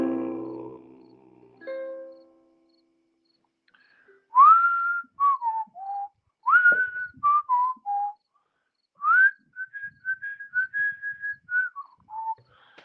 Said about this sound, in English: Yeah, a little bit of whistling.